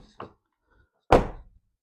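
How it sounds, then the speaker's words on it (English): The rear door of a Honda Ridgeline is opened, a faint click of the latch followed by a louder hollow thunk of the door releasing, close and otherwise quiet. "I will open the back door and see if my gap right here is the same."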